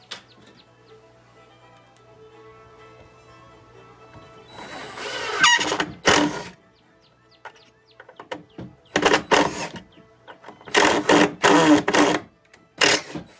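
A power drill drives screws into pallet wood in short bursts, several loud whirring runs separated by pauses, preceded by quieter humming and clicks, close by with no talk.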